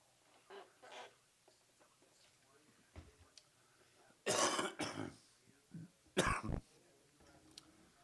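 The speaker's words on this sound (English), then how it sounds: "Gave me a chance to cough" Two loud coughs, one around the middle and another shortly after, amid quiet background noise and faint murmuring.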